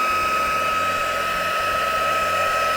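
A craft heat gun running steadily, a constant whirring fan hum with a high whine, even and close throughout with no pauses or talk.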